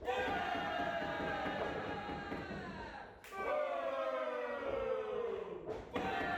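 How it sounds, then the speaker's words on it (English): A large wrestling crowd roars and cheers continuously at an invitational quarter-final match, a loud sustained wall of voices with shrill whistles and chant-like swells, dipping briefly before surging again. "Just listen to this crowd."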